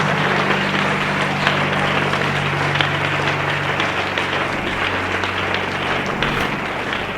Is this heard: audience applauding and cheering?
yes